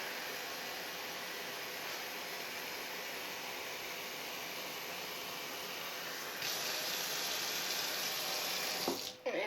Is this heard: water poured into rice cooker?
yes